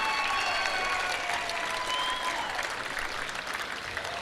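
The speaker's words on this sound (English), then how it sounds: "Please join me in a round of applause for both Southport and Bond University" Dense, steady crowd applause and cheering during the presentation at a women's Australian football seniors grand final between Southport and Bond University, holding a continuous wash of clapping throughout.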